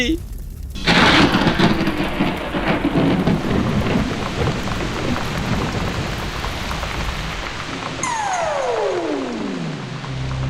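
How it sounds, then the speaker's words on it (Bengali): Heavy rain falling with a rumble of thunder, a loud steady downpour that starts abruptly and continues, with a descending whooshing tone near the end. "ওই দেখ বৃষ্টিতে ভিজে বেচারামের গায়ের আগুন নিভে গেছে"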